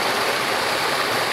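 Water pouring out of a concrete channel toward the Cascata Antônio Monteiro waterfall in Pocinhos do Rio, a loud, close, continuous rushing splash with no pauses.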